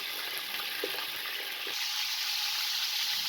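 Chicken sizzles steadily in a hot pan with browned onions, a constant crackling hiss with a few soft clinks of stirring, growing slightly louder partway through.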